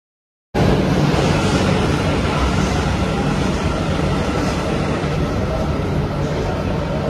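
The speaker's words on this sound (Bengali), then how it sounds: "তো ওই জন্য এখন যাওয়ার সময় মেট্রো দিয়ে যাবো।" Riding a metro train: a steady, close, loud rumble with rolling rail noise runs continuously from the moment the sound starts.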